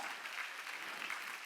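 A church congregation clapping together during a Korean Sunday worship service, dense steady applause from many hands, continuous and moderately distant.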